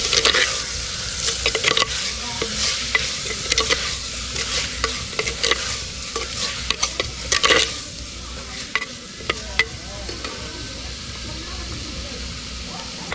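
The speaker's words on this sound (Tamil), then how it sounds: "தக்காளியும் நல்லா வதங்கிருச்சு. வெங்காயம் எல்லாம் வதங்கிருச்சு" Tomatoes and onions with ginger and garlic sauté for chicken curry in a clay pot, with a steady sizzle, frequent sharp scraping stirs and a voice talking at times.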